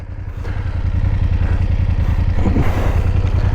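BMW 850 GS motorcycle being ridden, a close, loud, steady engine thrum with a pulsing low rumble and some wind noise, building slightly over the first second.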